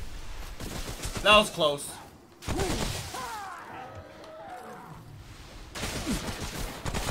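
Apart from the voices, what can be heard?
gunfire in video game Subject 2923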